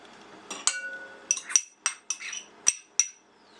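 A utensil clinks sharply against a bowl while eggs and other ingredients are mixed, a series of about eight distinct metallic taps in uneven rhythm, close and clear with no talking.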